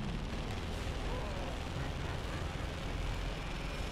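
Gunfire and explosions from Gears of War 2 rumble continuously as a dense, muffled barrage of booms and bursts, sitting fairly low in level.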